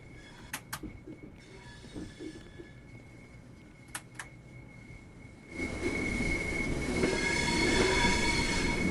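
Freight diesel locomotive train in Train Sim World 6 rolling through a station, with a couple of sharp high squeals early on, then a steady louder rumble and wheel screech building from the middle onward, no talk.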